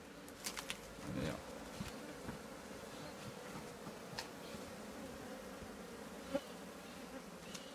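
A swarm of Apis honey bees buzzes during a honey harvest, a soft continuous drone with individual insects passing close now and then, quiet and steady, with a brief thump near the end.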